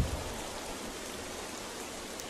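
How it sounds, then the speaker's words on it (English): Rain pours steadily in The Legend of Zelda: Wind Waker HD as a dense, even hiss that fills the whole moment, with no talk over it. "And it's raining."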